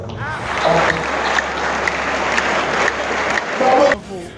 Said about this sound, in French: Alors je vous demande d'applaudir pour eux.